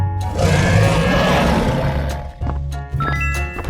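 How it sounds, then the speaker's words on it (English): A dinosaur in a 3D animal slide game gives a loud, harsh, breathy roar lasting a couple of seconds, then fades into steady game music with short bright effects. "Dinosaurs."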